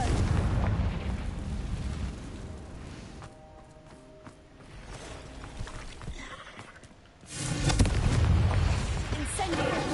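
Confringo spell blasts in the wizarding game Hogwarts Legacy, heavy booming explosions that rumble, fade into a quieter stretch of smaller pops and crackles, then burst loud again near the end.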